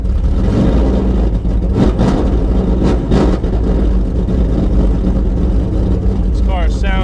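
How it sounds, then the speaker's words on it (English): A 2010 Ford Mustang Cobra Jet race car's engine roars loud and close, running hard with a rough, pulsing burble and a few sharper revving surges. "this car sounds fantastic"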